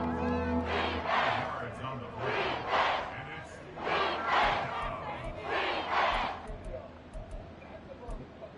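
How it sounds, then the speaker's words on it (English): Stadium crowd noise in an EA Sports football video game, a steady roaring swell of fans with rhythmic chanting surges rising and falling throughout, loud and sustained, with a play-by-play commentator's voice running over it. "this crowd doing their best to make a lot of racket"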